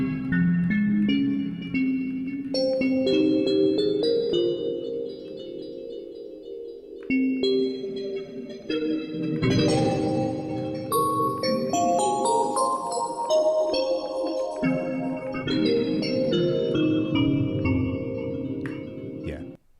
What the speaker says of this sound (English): This is the Arctic Bells.